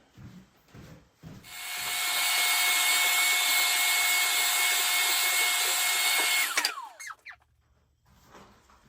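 A workshop dust collection system switches on and runs as a steady, loud broadband roar for about five seconds, then winds down quickly; faint shop noises come before and after.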